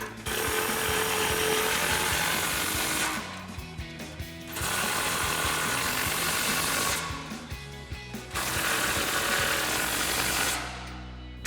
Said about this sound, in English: You're gonna tighten your 3 nuts here.